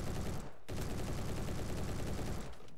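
Rapid automatic fire from an AM-180 submachine gun, a .22 long rifle weapon with a 275-round drum, in the video game Bad Business, a dense continuous rattle with two brief pauses between long bursts.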